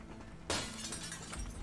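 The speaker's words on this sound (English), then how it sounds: "smash the glass" Glass shatters loudly in a video game prison escape, a sudden crash that breaks in and keeps ringing with scattered fragments over a low steady game hum.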